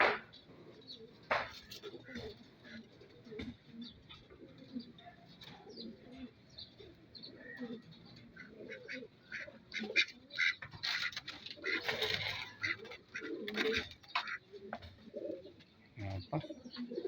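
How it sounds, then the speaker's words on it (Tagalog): Racing pigeons, long-distance birds, coo and call around a loft in a steady, close chorus of overlapping soft notes with occasional flutters and knocks. "Pang marathon yung mga kalapate ko."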